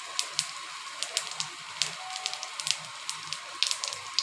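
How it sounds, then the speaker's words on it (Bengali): Cumin seeds and two bay leaves sizzle in hot oil in a kadai, a steady close crackle with sharp pops scattered throughout. "জিরা ফোড়ন দিয়ে দিলাম।"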